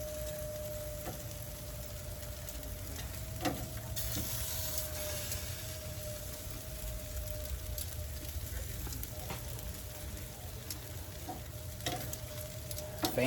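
Chicken wings sizzle and fry steadily on a Masterbuilt 560 Gravity Series charcoal grill after being flipped, a continuous crackling hiss with a few sharper pops and a steady hum beneath.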